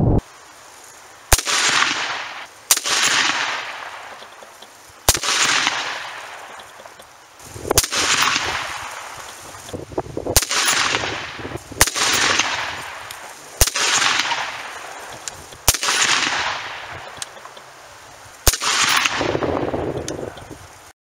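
A .223 rifle fires hand-reloaded rounds at a target outdoors, about nine loud sharp cracks spaced a second or more apart, each trailing off in a long echoing decay.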